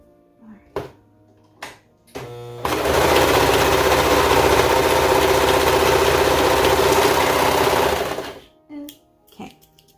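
A sewing machine runs steadily for about five seconds while stitching a seam on a small tulip-style top, loud and close, with a few short clicks and handling noises before and after the run.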